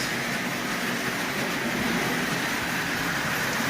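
A Marx custom Canadian Pacific toy locomotive with front and rear trucks runs along its track. It gives a continuous, even whirring rumble with faint rail clatter, close and steady throughout, with no talk.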